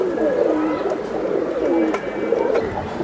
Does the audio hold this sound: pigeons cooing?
yes